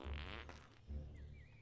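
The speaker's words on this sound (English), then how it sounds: "How about a fart?" A character in Fable Anniversary lets out a fart, heard as two low, buzzing bursts close together, fairly faint, with a soft higher squeak trailing after.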